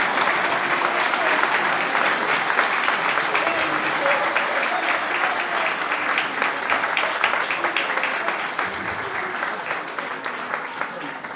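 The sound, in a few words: loud audience applause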